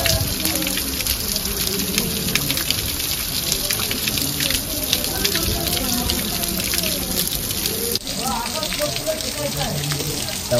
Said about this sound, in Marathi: खूप पाऊस येतोय